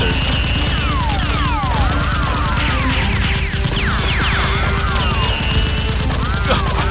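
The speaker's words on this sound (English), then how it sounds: "the boss angrily charges out, firing at the SWAT officers" Toy Nerf blasters fired in a staged Nerf gun battle between a gang boss and SWAT officers, heard as loud, continuous rapid firing throughout with high sweeping cries and voices over it.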